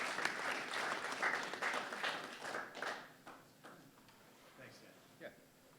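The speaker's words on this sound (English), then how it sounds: "Let's give him a round of applause for coming to our College Senate and for everything he does." Applause from attendees at a college senate meeting, a moderate, steady patter of clapping in a room that fades out over a few seconds, leaving scattered final claps.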